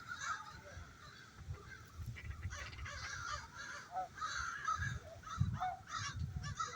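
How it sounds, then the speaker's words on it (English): Crows and a raven call outdoors in scattered harsh caws and croaks, some in quick runs, at moderate distance over low rustling background noise. "There's a raven chirping."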